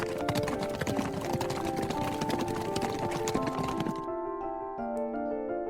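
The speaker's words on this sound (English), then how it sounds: "he heard hoofbeats in the distance." Horse hoofbeats clip-clop in a steady running rhythm as riders approach across farm fields, layered over a sustained musical background, then the hooves drop away near the end while the music carries on alone.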